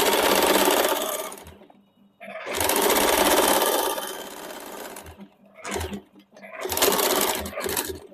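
A sewing machine stitches the side fitting seam of a suit in several long runs, loud and close, broken by short pauses between bursts.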